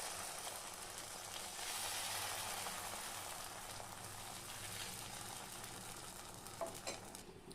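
Rice and lentil batter sizzles steadily in a hot oil-brushed pan, a soft continuous hiss and crackle with no talk.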